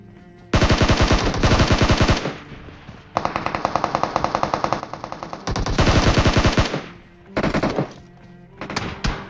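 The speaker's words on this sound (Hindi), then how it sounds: "पीछे से भाई इसके बंदे ने कवर फायर बहुत अच्छा दिया" Automatic gunfire in a battle royale video game, several long bursts of rapid shots separated by brief pauses, loud and close, with a few short trailing bursts at the end.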